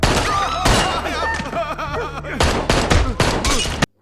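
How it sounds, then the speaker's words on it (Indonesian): Gunfire in a fight scene from the action film Police Story 2, rapid bursts of loud shots and impacts over shouting voices and score, ending abruptly. "dia langsung melakukan penembakan"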